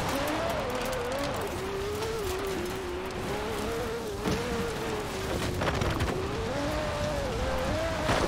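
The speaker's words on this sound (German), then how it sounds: "dass ich mir hier gerade mit einem Vulcan durchs Gelände fahre" A Vulcan car in Forza Horizon 4 drives off-road, its engine holding a steady droning note that rises and falls slightly, with rumbling terrain noise and a faint voice underneath.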